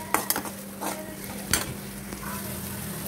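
Chicken stir-fried in a pan over ginger-garlic paste and sautéed tomato: a steady close sizzle with a few sharp spatula scrapes and stirring knocks, no talking.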